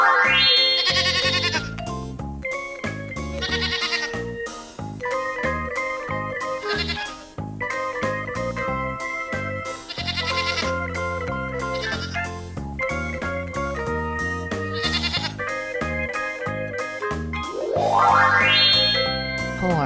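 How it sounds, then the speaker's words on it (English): A farm goat bleating in several wavering calls set against bright, cheerful children's music that plays throughout. "Goat."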